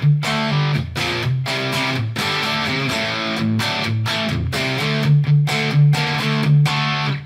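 An electric guitar plays a medium-crunch solo lead tone through a Line 6 Helix with a Cali Q EQ, an Own Hammer impulse response and light room reverb. Distorted chords and sustained notes ring out loud and close, alone without talk.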